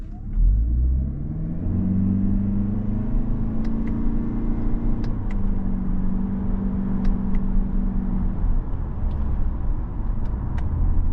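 A 2025 Toyota Camry XSE with a CVT accelerates through simulated paddle-shifted gears, its engine drone rising steadily and loud from inside the cabin, with soft clicks over the continuous road rumble.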